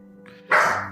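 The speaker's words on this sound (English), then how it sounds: "If you hear him barking, that's my dog, Sparky" A dog barks once nearby, a single sharp bark rising out of a quiet steady hum and trailing off.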